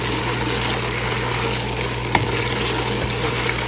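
Chicken and onions fry in a pan for a Lahori chicken curry, a dense, loud, continuous sizzle with a single sharp clink partway through and no voices.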